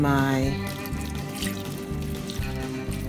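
Water poured into a pot of chicken seasoned with paprika for vegetable soup, a steady gushing splash up close that settles into a softer sloshing trickle, with no talk.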